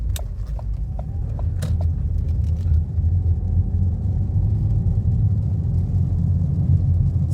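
A turbocharged EcoBoost car drives in traffic with a steady low engine rumble and road noise, plus a few faint clicks near the start.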